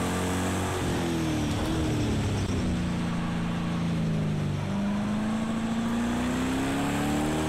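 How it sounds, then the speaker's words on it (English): Race car engine in the video game Project Cars 2 played in VR, a steady loud droning whine whose pitch slowly dips and rises as the car is driven, with no talking. "The engine sounds are quite amazing."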